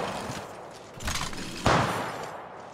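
Gunfire in the video game Apex Legends: two bursts of sharp, rapid shots rise over a constant background rumble, the second burst louder and closer, each fading out afterward.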